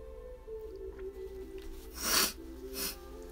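A singer on a live stream sniffles while crying, with two short, breathy sniffs close to the mic over a quiet, steady background hum and no talking.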